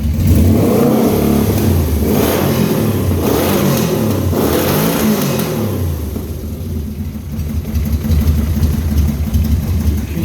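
A motorcycle engine fitted to a homemade buggy runs loudly and up close, revving hard in repeated surges before settling into a rough, steady idle, with no talking.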